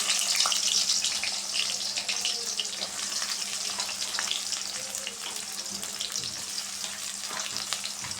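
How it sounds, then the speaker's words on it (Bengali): Onions fry in hot oil in a wok for a fish curry, giving a continuous crackling sizzle with scattered spits and pops, close and fairly steady throughout with no talking. "আমি এখন পেঁয়াজ দিয়ে দেব।"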